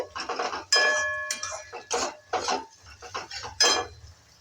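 A spoon clinks and scrapes against a pan while soya chunks are stirred with slit green chili and Kashmiri chili powder, in a run of separate metallic strokes with brief pauses, close and fairly loud, with no talking.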